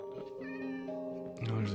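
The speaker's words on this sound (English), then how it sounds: "No, there's a kitty." A cat meows in the Minecraft video game, a few short tonal meows mixed with soft background game sounds and a brief low thump near the end.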